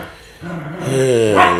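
Several dogs barking and growling close by on a farm-like property, a rough rising chorus of overlapping barks that grows louder and busier toward the end.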